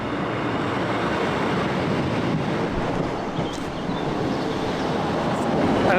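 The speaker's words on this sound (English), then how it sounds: "Just in time for a train going the other way." A train rumbles steadily through Huncote station on a hot day, a broad continuous roar at moderate distance mixed with gusty wind buffeting the microphone.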